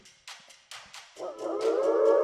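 A creature howls in the horror game Fear & Hunger 2, a long rising, wavering cry building louder over the final second, preceded by a few faint percussive thuds.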